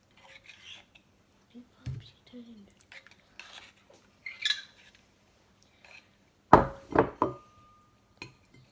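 Homemade DIY slime is mixed with activator in a bowl: short, sparse squelching scrapes and stirring strokes come in separate bursts close up, with a louder cluster of sticky knocks near the end.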